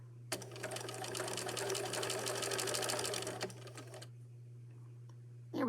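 A sewing machine stitches fabric in a fast, even mechanical whir for about three seconds, then slows through a few separate clicks and stops, leaving low hum. The machine is close and there is no talk.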